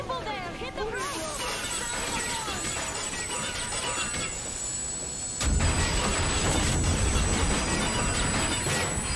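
Train braking in the video game Metro Exodus: a continuous loud rumble with a high metallic squeal running throughout, intensifying into a heavier grinding roar about halfway through, with game voices talking over it.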